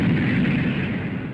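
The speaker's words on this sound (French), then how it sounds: "J'ouvre le feu tout de suite, commandant." Heavy naval guns of a warship fire in a loud, sustained roar, a dense booming blast that fills the moment and fades slightly at the close.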